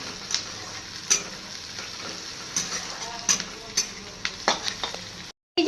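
Chickpeas, onion and salt sizzle in hot oil in a wok while being stirred, with repeated scraping clicks of the utensil against the metal over a constant frying hiss.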